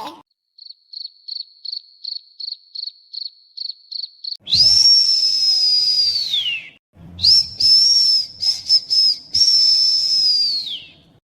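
Cartoon whistle signal: a rapid run of short chirping pips, then two long, loud, piercing blasts with a slight pitch rise and fall, each lasting a couple of seconds, alone without talk.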